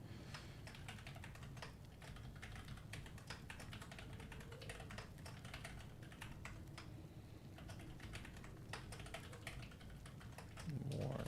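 Fast, steady clatter of keys on a computer keyboard, close and quiet, with a continuous low hum underneath and a brief louder bump at the end.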